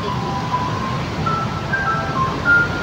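A roadside ice cream vendor's bell near the UM Matina overpass on a Sunday afternoon, rising as a few short bright rings over steady street traffic rumble; no voices.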